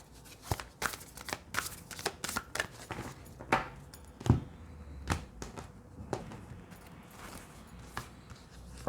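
Tarot cards being shuffled by hand, a run of crisp riffling flicks and soft slaps repeating at an uneven pace, close and fairly quiet with no talking.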